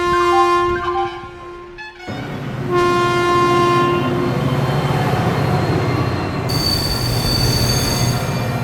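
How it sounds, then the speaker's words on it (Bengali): A train pulling into a railway platform, loud and close, with squealing wheels, sustained horn-like tones and rumbling carriages rolling in continuously, the pitch of the squeal shifting as it slows. "ট্রেন প্ল্যাটফর্মে এসে উপস্থিত হলে"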